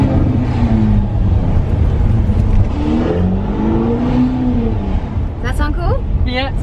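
A powerful Ferrari engine revs in neutral, its exhaust note climbing and falling in long swells over a steady low rumble, close and loud.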